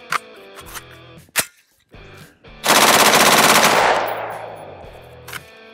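An AR-15 with a nitride-treated barrel fires on full auto: a few short shots and brief bursts, then a long, loud, rapid string of gunfire that rings out and decays, followed by one last crack.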